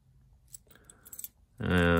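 A small metal key for a Hermes 3000 typewriter case jingles close by in a few quick rattling shakes, then a voice starts speaking over the end.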